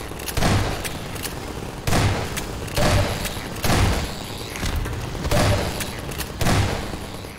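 Shotgun firing in the video game Half-Life 2 Episode 2, loud booming blasts repeating about every second, each with a heavy low thump and a short decaying tail.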